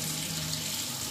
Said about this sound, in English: So when I'm opening the tap, the water speed is very less.